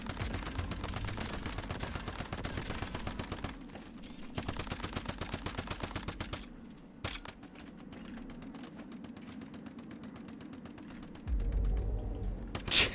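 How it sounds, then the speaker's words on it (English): Rapid gunfire from the player's weapon in an online game, a dense stream of sharp mechanical shots sounding steadily for several seconds, pausing briefly, then resuming over a low game background, with a louder burst near the end. "I shot so many bullets, ain't no way the first 3 bullets were not hits"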